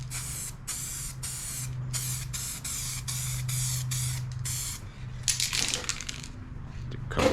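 Short bursts of aerosol touch-up paint hiss onto a 2016 Harley-Davidson Street Glide Special, close and repeated in a quick series of separate sprays, then a rattle and clatter of the can near the end.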